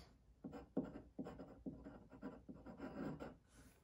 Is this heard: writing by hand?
yes